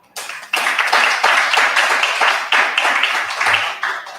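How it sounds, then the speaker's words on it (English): Audience applause at a community organization's annual meeting, a dense burst of clapping from a crowd that starts abruptly and carries on steadily at a loud level for about four seconds. "So let's do one more round of applause."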